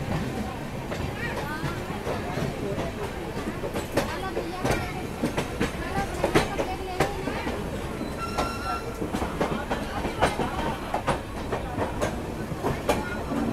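Two express trains, the Farakka Express and the Ajmer Express, run side by side on railway tracks, giving a steady rumble with wheel clatter and brief squeals, heard from inside a carriage with faint voices in the background.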